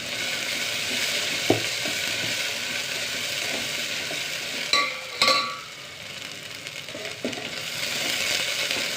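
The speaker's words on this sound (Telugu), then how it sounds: "అల్లం వెల్లుల్లి పేస్టు ఇది ఒక one and half tea spoon వరకు వేసుకోవాలి ఇది కూడా ఆయిల్లో మంచిగా ఫ్రై కావాలి" Ginger-garlic paste frying in hot oil, a steady broadband sizzle running throughout with a few sharp spoon or pan clinks near the middle, no talk.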